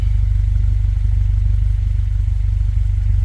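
A stock first-generation Honda CR-V engine with an aftermarket Yonaka catback exhaust idles just under 1,000 rpm with a deep, throaty exhaust rumble, steady and low-pitched, pulsing evenly up close.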